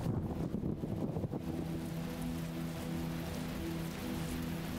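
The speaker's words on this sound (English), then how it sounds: "Oh, it's gonna start raining again." Rain falls in the video game The Talos Principle, a broad steady patter and hiss that starts out rougher and then settles into an even wash alongside a low ambient hum.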